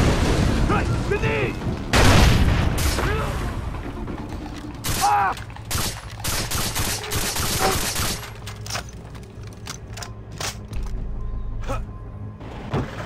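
Game combat in Far Cry 3: a loud grenade blast followed by bursts of gunfire and clattering mechanical noises, dense and close, with players talking over the action.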